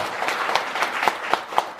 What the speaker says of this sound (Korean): 자, 큰 박수 부탁합니다.